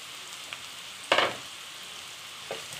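Mashed potato filling for masala dosa is mixed in a hot pan, with a soft background sizzle and a few brief, close scraping stirs, one clearly louder than the others.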